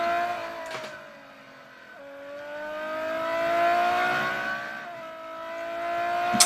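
Ferrari 599 GTO engine at full speed in the racing game Real Racing 3, a high whining tone that rises and falls through gear changes, moderately quiet and steady.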